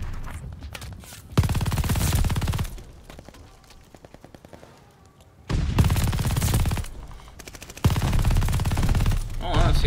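An MG42 machine gun fires in long, rapid automatic bursts in Call of Duty Vanguard. The loud, sustained strings of shots come close, broken by quieter gaps carrying faint game noise.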